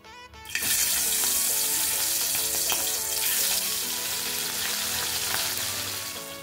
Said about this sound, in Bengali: তেল গরম হতে বসিয়েও দিয়েছি। এবার মাছগুলোকে ভেজে নিই।